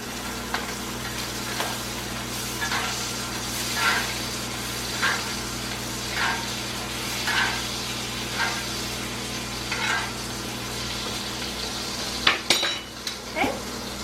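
Steak searing in a pan with butter, a steady sizzle running throughout with soft periodic basting splashes and a few sharper clatters of the pan near the end, no talking.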